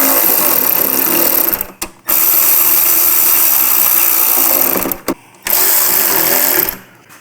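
A power driver runs in screws on new lower fairings for a 2024 touring motorcycle, three loud, close, sustained whirring runs with short pauses between them.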